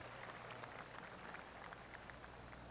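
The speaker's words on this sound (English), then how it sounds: "Oh, golf clap." Golf spectators give a polite clap for a good shot during a televised tournament round, a soft, distant patter of scattered hand claps, faint and brief against low background noise.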